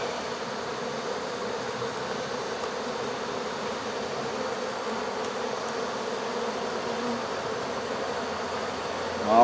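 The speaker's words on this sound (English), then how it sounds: "There's a massive ball of bees up inside now" A large ball of honey bees clustered inside a tub during a hive removal hums in a dense, steady buzz that stays close and constant from start to finish.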